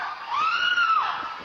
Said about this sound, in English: woman's screams captured by home surveillance camera